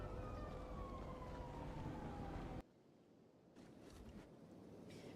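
A fire truck siren in the video game Kenshi wails with a slowly falling tone over a loud engine rumble, then abruptly cuts to quieter background noise halfway through.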